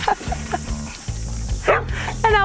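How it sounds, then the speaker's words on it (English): Farm dogs bark on a ten-acre New Zealand lifestyle block: several short, sharp barks and yips in quick bursts, fairly close, over background noise. "The dogs are just checking on me."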